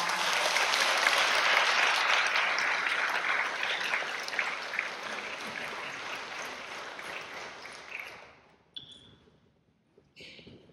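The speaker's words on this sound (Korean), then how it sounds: "박수로 맞이하겠습니다." A parish audience in a Korean Catholic church applauds to welcome a nun giving a lecture on prayer: full, sustained clapping that gradually thins and dies out after about eight seconds, leaving a few scattered sounds.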